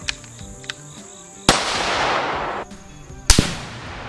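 Two loud, close gunshots from a Savage High Country 6.5 PRC hunting rifle crack out with long echoing decays while the rifle is being sighted in at a range. Faint clicks and handling noises come before the shots.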